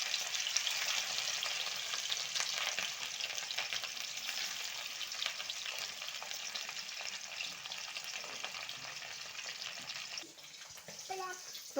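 Turmeric-coated fish pieces fry in hot oil, giving a soft, even sizzle that hisses steadily throughout, with a few light clatters near the end.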